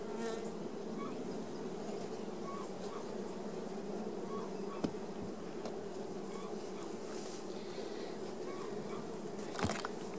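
Bees swarm around a troublesome, stinging backyard hive, making a dense, steady buzz that fills the whole stretch at close range with a few brief louder passes.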